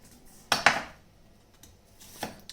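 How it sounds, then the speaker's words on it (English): Knife cutting through a half red onion on a board: two sharp, close chopping strikes in quick succession, followed by a pause and a fainter third cut. "I'm trying to cut this onion."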